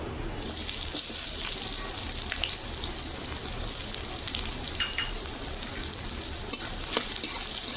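Chopped onion frying in a pan for a lentil dhoka kalia, a steady close sizzle with faint clinks and scrapes running throughout, no talking.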